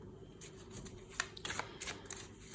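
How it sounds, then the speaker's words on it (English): Tarot-style cards are shuffled by hand in quick, crisp riffling bursts, close up, with no talking. "Okay, I want to shuffle again."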